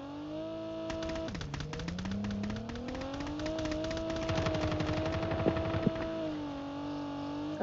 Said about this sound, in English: Someone behind me shooting.